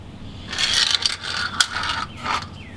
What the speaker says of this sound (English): take your drain bolt, put it back in, and tighten her back down